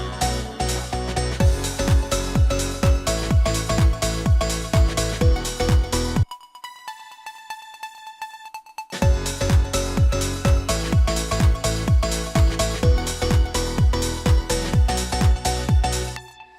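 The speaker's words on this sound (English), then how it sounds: "yeah, I usually do a little melody, it sounds like this." Deep house track with a steady four-on-the-floor beat and pulsing chords; the beat cuts out for a few seconds leaving a sustained melody, then the full groove returns, loud and continuous with no talking.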